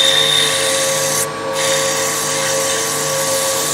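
Steady friction hiss of 180 grit sandpaper rubbing a wooden finial spinning on a woodturning lathe, continuous and close with a constant motor hum and a brief dip midway.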